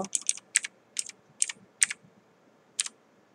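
Computer keys clatter in short, irregular bursts, a quick cluster at first and then a few spaced taps, close and distinct with no talking.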